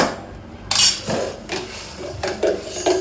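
A utensil mixing ingredients with sugar for protein kulfi in a dish, several clinks and scrapes of metal against the bowl in short bursts, close and fairly loud, no talking.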